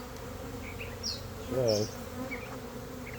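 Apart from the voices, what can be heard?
honey bees buzzing during hive inspection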